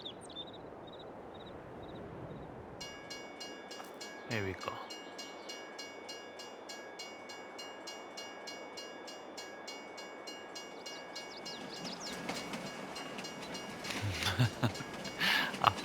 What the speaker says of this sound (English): Where on earth is this train?